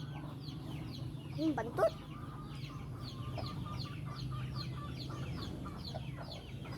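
A mother hen clucking close by among her three chicks, soft repeated clucks under steady ambient noise, with a short louder squawk near the start and a person speaking briefly.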